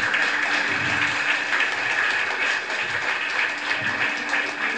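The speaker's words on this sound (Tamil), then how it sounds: "இன்னொரு தடவை பலத்த கரகோஷம்" Audience applause at an Andal Kalyanam religious discourse, a steady wash of many hands clapping through the whole stretch, with a faint steady hum underneath.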